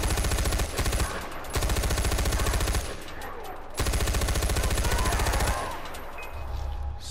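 Automatic gunfire from Far Cry 4 rattles off in long, rapid bursts separated by short pauses, loud and close, with echoing tails between the volleys.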